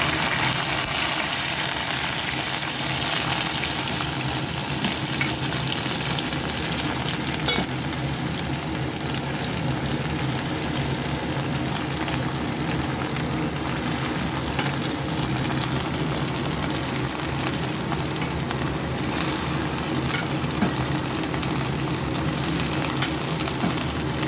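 Okra (ladies finger) frying in hot oil, a steady loud sizzle and crackle that holds evenly throughout with no talk.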